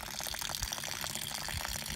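Rainwater runs off a roof and drains through a downspout into a rain barrel, a faint steady trickle and splash with a constant watery hiss and no voices.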